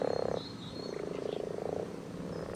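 Frogs croaking in a pond, a series of rapid, pulsing trilled calls in bursts, fairly close and clear, with a second faint call in the background and no talk.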